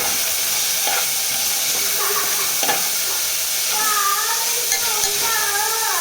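Spinach stalks and potatoes frying in a pan while being stirred, a steady close sizzle with scraping stir strokes and a few faint voice-like tones through the middle.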